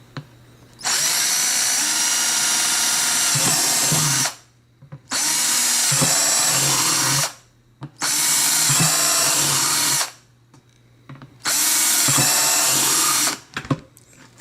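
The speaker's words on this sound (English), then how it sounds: "There's really no art to this, so you just drill holes everywhere." A power drill with a drill bit bores holes in a plastic bucket in four separate loud bursts of high whine, each lasting a few seconds, with short quiet gaps and small handling clicks between them.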